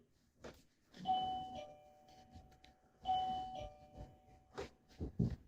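A doorbell chimes twice in an old film, each ring a bright ding-dong tone that rings out and fades, followed by a few knocks or thuds at the end, with no talking over it.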